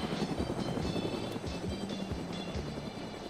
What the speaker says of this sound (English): Why are you in the helicopter?